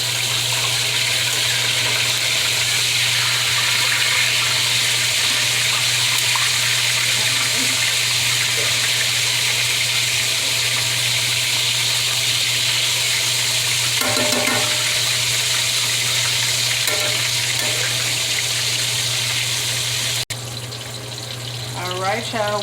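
Pork chops frying in hot oil give a steady, loud broadband sizzle that runs unbroken for the whole stretch, with a few brief clatters and a short voice near the end.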